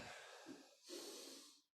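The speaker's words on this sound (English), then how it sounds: "Breathing in, breathing out" A single deep, audible breath drawn in through the nose during an aikido taisabaki body-turning exercise. It is close and airy, with a brief catch midway, then fades into silence.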